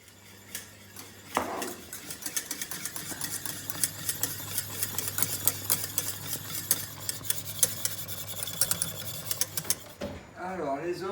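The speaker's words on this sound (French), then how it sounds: "quand je vais mélanger les deux, je vais faire brunir un peu le beurre" Butter and flour are stirred for a béchamel sauce for moussaka, giving a steady run of quick scraping and tapping strokes against the pan, with a brief voice at the very end.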